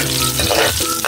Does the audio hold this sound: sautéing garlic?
yes